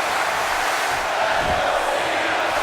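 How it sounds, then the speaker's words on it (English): A virtual wrestling arena crowd in WWE 2K18 roars steadily, a dense wash of cheering that stays loud and continuous for the whole stretch, with no clear voices standing out. "Crowd behind Cena now."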